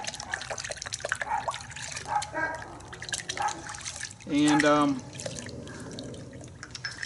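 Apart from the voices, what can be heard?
car soap being poured into water bucket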